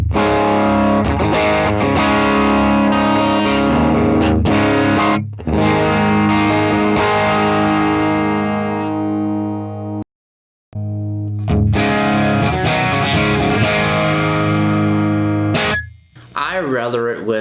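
Distorted electric guitar through a Blankenship Leeds amp model on an Axe Fx III with a 1x12 cabinet and a 57 mic, strummed chords ringing loud and sustained, with a brief stop near the middle and a fade at the end.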